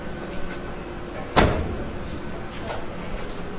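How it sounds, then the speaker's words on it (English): One solid thud of a lighter-than-stock door shutting on a Nissan Skyline GT-R R32 lands in the middle, with quiet background noise before and after. "I'll go close this door here too"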